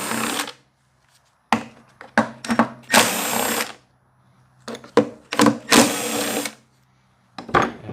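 Power driver spinning out three T27 screws from the recoil assembly of a Stihl BR700 backpack blower, heard as loud close whirring bursts in short repeated runs separated by pauses, with no talk.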